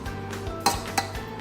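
A pot and spoon clink as papaya thoran is transferred into a serving bowl: two sharp metallic knocks about a third of a second apart over a quiet kitchen background.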